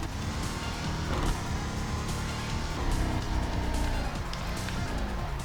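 A racing video game car in a career mode rumbles and clatters continuously, dense mechanical engine noise and rattles at a steady level with shifting pitch, no speech over it.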